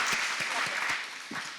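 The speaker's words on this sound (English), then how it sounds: "Would you please give them another round of applause?" A short burst of dense audience applause at a women's business series event on health, many hands clapping at once before it starts to fade.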